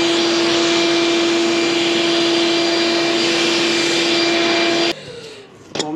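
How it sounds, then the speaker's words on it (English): A vacuum used to suck a juvenile rat out of a wall drones loudly and steadily with a constant whine, then cuts off abruptly near the end, leaving a few faint knocks. "We're gonna use the old vacuum extraction trick."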